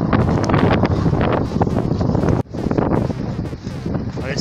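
Strong wind gusts buffet the microphone in loud, continuous roaring rumbles, with a brief lull partway through before the blowing resumes.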